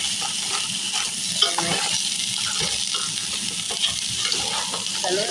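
Garlic butter crab frying in a pan while being stirred, a steady close sizzle broken by scraping and clacking of the utensil, with one brief word spoken.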